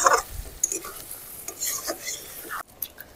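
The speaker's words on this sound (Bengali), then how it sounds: "এই পর্যায়ে জাস্ট মাটনটা ধরে ধরে কষাতে হবে।" Mutton is stir-fried in a pan with soft, scattered scrapes and clinks of a spoon against the metal over a faint sizzle, close by and fairly quiet.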